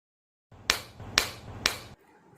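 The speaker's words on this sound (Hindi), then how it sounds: "विलियम ने 3 बार ताली बजाई।" Three sharp hand claps ring out in an even rhythm, close and distinct, each followed by a short echoing decay in a quiet room.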